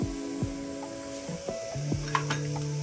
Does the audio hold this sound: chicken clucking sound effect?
no